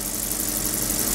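A BMW 7 Series sedan with accident damage idles close by, a steady, even engine hum with a faint mechanical vibration and no voices over it.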